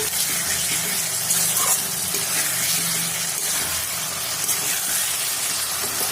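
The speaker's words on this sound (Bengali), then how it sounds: "ডিম কষাটা ফুটছে" Egg curry bubbling and simmering in a pan, a steady close, loud hissing gurgle that holds evenly from start to finish with no voices.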